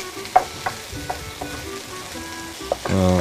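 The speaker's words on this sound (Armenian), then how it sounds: "Բանջարեղենը շարունակենք մի քիչ տապակել։" Meat and vegetables sizzle in a frying pan, with a few sharp clinks of a utensil against the pan and a louder stirring scrape at the end.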